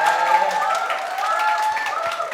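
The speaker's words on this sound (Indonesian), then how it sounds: "Tim Malin tepuk tangannya." A studio audience at an Indonesian entertainment event claps and cheers for Team Malin, a dense, steady wash of applause with crowd voices mixed in.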